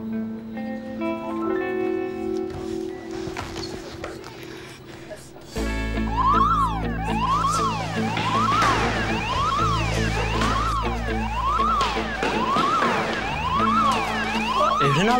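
Emergency sirens wail loudly in rising and falling cycles, cutting in abruptly halfway through and repeating steadily over a dense background, with no speech.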